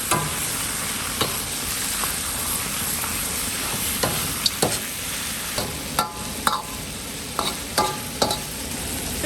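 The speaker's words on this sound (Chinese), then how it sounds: "先给它炒一下，炒久一点" Pig trotters stir-fry in a wok with Sichuan peppercorns and five-spice herbs: a continuous sizzle broken by scattered sharp clicks and scrapes from the stirring utensil, with no one talking.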